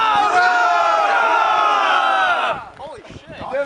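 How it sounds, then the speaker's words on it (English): A crowd of people shouts a sustained, loud group cheer in unison, a rousing hurrah that holds for a couple of seconds before breaking off into scattered voices and laughter. "can we get like 3 hurrahs for NATO this time?"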